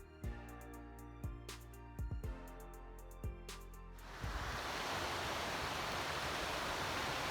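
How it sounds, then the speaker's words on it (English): A mountain creek on a hiking trail rushes with broadband flowing water that swells up loud and steady after a few seconds of faint, sparse knocks and footsteps. "made it to the creek."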